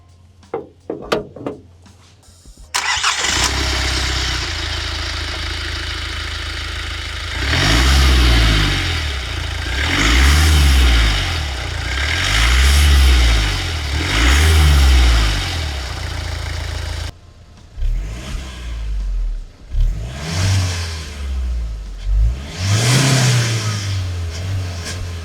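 A Kia Syros 1.5 litre diesel engine at idle under the open bonnet, revved several times in rising and falling surges over a steady diesel clatter, then blipped again in shorter bursts.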